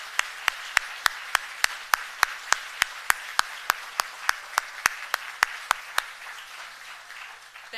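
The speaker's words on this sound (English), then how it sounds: "Big round of applause." A single pair of hands claps in a slow, steady rhythm, about twenty crisp, evenly spaced claps in a quiet hall at a staff awards ceremony, then they stop.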